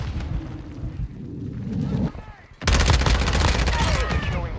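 Shotgun fire in the video game Modern Warfare 2: a dense burst of loud, rapid gunfire kicks in after a short lull, following a stretch of quieter game noise with a voice talking underneath.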